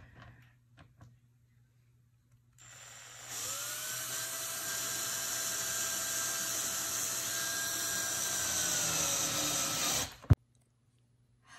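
A power driver running a screw through a plastic bucket lid, a steady high whine lasting about seven seconds before stopping with a sharp click, with no talking.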